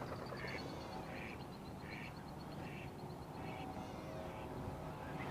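A mother duck quacks repeatedly near her nest on a muddy fishing bank, evenly spaced calls over steady wind and water noise.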